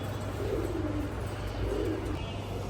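Afsan Makhra Bagha Khaki pigeons, freshly molted and housed in an outdoor cage, give two soft, rolling coos a second or so apart over a steady low hum, with no talking.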